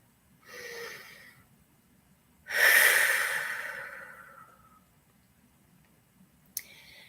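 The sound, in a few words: deep breath during guided meditation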